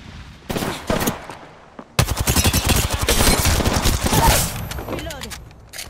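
Rapid automatic gunfire and shots in a squad-based video game firefight, loud and close in dense bursts, with in-game voice callouts heard between the volleys.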